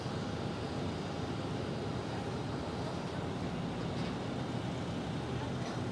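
An Envoy airliner landing at Phoenix Sky Harbor Airport makes a steady, distant jet roar that holds evenly over the whole stretch, with faint background noise around it.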